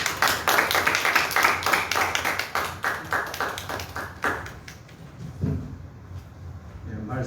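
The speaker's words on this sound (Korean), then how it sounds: "우리 울렁사님 나오실 때 크게 한번 박수로 환영하도록 하겠습니다." A church congregation claps in welcome at a Sunday service, a dense, lively burst of many hands that carries on for several seconds, then thins out into scattered claps and a few knocks before fading.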